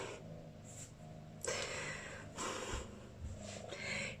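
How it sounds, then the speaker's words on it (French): A pet cat purrs quietly and very close, its breathy rumble pulsing in soft, uneven waves with each breath. "C'est un amour de chat."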